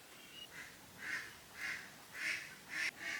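Native domestic ducks quack in a series of about six nasal bursts, fairly close and moderately loud, with a quiet outdoor village background and no talk.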